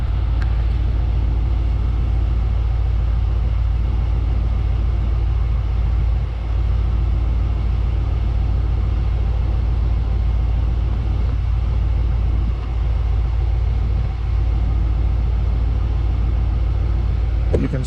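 A Ram 2500 pickup's 6.4L V8, fitted with a Hellcat oil pump and other upgrades, running on its first startup, a loud, steady low idle rumble that holds unchanged for the whole stretch, heard up close.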